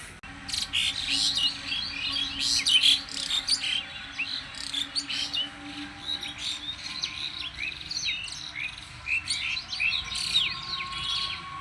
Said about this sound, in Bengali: পাখির কলকাকলিতে মুখরিত বাংলার কৃষি